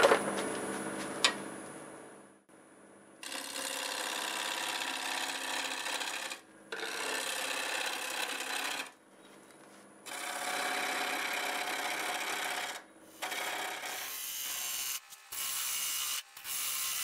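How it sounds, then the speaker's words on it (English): A wood lathe turns a fence post at about 1,000 RPM while a 5/8 bowl gouge shapes it, giving loud, steady scraping and shearing in several long passes separated by short pauses, with no talking. "I'll go ahead and switch to a 5/8 bowl gouge and I'll start coming up with some sort of a shape here."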